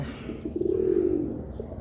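Pigeons kept at home give a single soft, low coo lasting under a second, close by against quiet background hiss.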